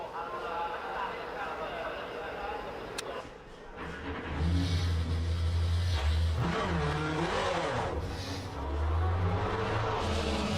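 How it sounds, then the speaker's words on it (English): Cars doing burnouts in the Le Mans Ultimate racing game at Monza: loud engine revving and tire noise rise after a quieter start and run in sustained bursts, with a voice talking over them. "Some burnouts."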